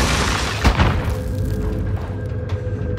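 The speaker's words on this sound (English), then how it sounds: "Oh, yeah, he hit my claymore." A claymore mine detonates in Call of Duty: Modern Warfare, one loud close boom followed by a rumbling decay and faint lingering ambience.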